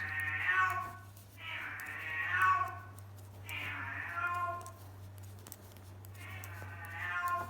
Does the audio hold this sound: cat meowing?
yes